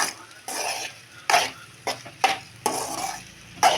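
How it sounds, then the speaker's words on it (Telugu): Okra curry with chili powder stirred in a pan, a series of sharp scraping and clanking spoon strokes at irregular intervals over a soft sizzle, close and without talk. "కొంచెం కారం వేసి ఒకసారి కలుపుతున్నా."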